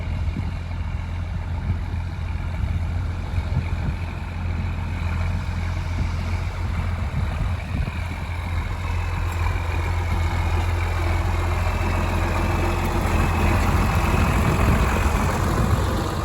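An old 6-cylinder diesel engine on a fishing boat launching off a beach runs with a steady low rumbling drone, constant and fairly loud, with wind and surf noise around it.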